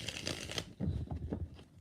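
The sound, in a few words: shuffling tarot cards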